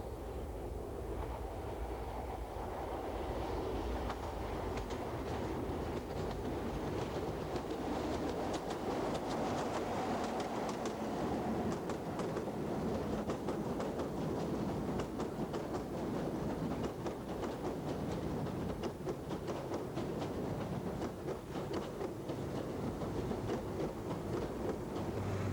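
An Inter-City 125 high-speed train in Devon and Cornwall, a steady loud roar with rapid rail clatter running throughout, close to the line and with no talking.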